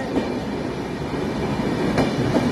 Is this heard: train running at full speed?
yes